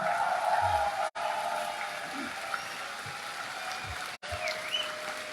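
Audience applause for a speaker at a motivational talk, a steady dense wash of clapping with low murmurs, continuing evenly with two brief dropouts.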